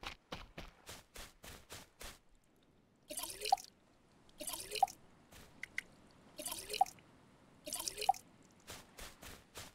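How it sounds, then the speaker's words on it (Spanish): Water drips and splashes repeatedly as a bottle waters plants in the survival video game Stranded Deep, in four short bursts over steady rhythmic taps, with no talking. "Regando las plantitas."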